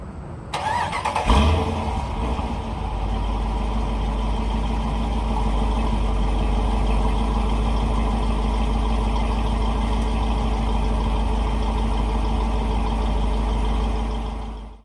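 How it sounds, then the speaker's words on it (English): A 2021 Dodge Durango R/T cranks and fires up about a second in, then settles into a steady, loud, deep idle close by that holds until the end. "And to end this portion of the review, a startup and an idle."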